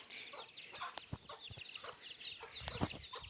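Faint, scattered clucking from chickens amid a noisy outdoor background, with occasional short sharp noises.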